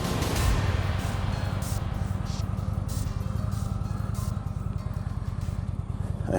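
An Indian Chieftain motorcycle with its Thunderstroke engine idles with no throttle applied, a close, steady low rumble of rapid even pulses running throughout, with no talking.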